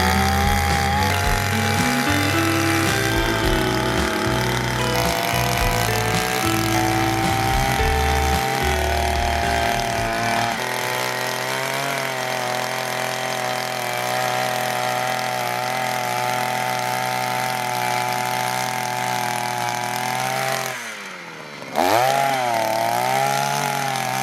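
A power drill bores through wood while fencing is built. It gives a loud, sustained motor whine with a shifting pitch for about twenty seconds, then stops abruptly and briefly spins up again.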